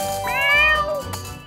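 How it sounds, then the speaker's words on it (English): A single drawn-out cat meow from a cat with a hurt paw, close and clear, rising then falling over about a second before quiet room tone. "What's wrong with your cat?"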